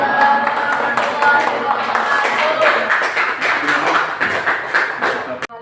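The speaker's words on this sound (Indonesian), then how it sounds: "tepuk tangan untuk kelompok 1" Clapping from a university class audience for a presenting group, loud and close with scattered individual claps, taps and thuds mixed in, and some voices murmuring underneath.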